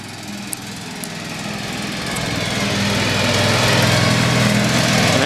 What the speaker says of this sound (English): Got his little butt out there mowing the yard.